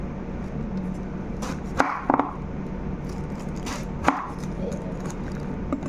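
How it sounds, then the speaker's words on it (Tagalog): A knife cuts through eggplant on a board with a few sharp, separate chops over a steady kitchen background hiss, and a voice briefly speaks. "ngayon hiwain na natin to talong para air fryer natin"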